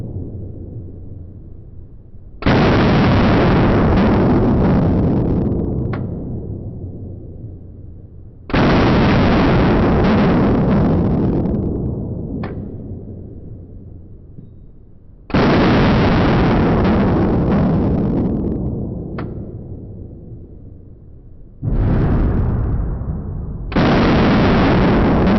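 Gunshots from a Palmetto State Armory AR15 rifle, four loud sharp blasts spaced several seconds apart, each with a long decaying echo rolling off outdoors, no talking.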